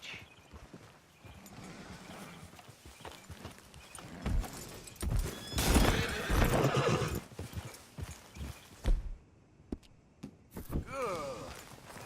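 A horse in Red Dead Redemption 2 clip-clops along at a walk and gives a whinny, with hoofbeats and tack noises up close and a spoken voice partly over them.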